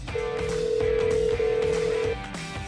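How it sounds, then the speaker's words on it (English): A cell phone test call ringing, with one steady ringback tone lasting about two seconds over quiet background. "Let's make a test call real quick just to show you that this phone is working."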